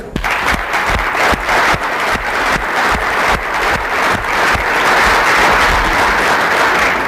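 An audience bursts into sustained applause, dense and loud many-handed clapping filling the room continuously, with a few sharper individual claps standing out near the listener.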